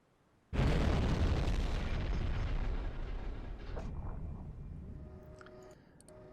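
A torpedo explosion striking a quayside in the Silent Hunter 5 submarine game: a sudden loud deep blast that rumbles and slowly fades over several seconds, with faint clicks near the end.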